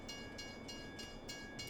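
A train rolls by in the video game Farming Simulator 22, a steady dense rumble with rhythmic clickety-clack pulses roughly every third of a second and a thin tonal whine on top.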